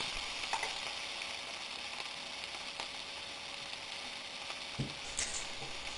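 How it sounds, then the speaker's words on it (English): Onions sautéing in a pan, a soft continuous sizzle and hiss at low level with a few faint stirring clicks, no voices. "Sauté the onions until they are slightly brown."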